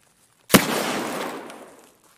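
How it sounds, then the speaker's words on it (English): A flare gun fired in Escape From Tarkov gives one sharp pop, followed by a loud rushing hiss that fades away over about a second and a half. No one speaks. "I think you need to shoot the flare at the 45 degrees-ish, otherwise it's gonna go backwards"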